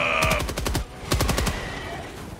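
Heavy machine gun fire from a Helldivers 2 game, two rapid bursts of evenly spaced shots, loud and close, separated by a short pause.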